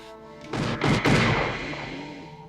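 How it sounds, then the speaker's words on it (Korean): Gunfire from an 1980s thriller film: a quick cluster of three or four sharp, heavy shots cracks out, then fades into a lingering echo. "총소리에 눈을 뜨는 짐"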